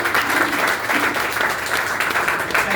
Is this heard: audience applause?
yes